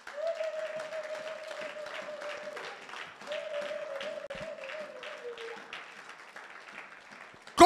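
A church congregation applauds for the Lord during a worship service, giving sustained, even clapping with a steady tone held underneath and a sharp burst at the very end.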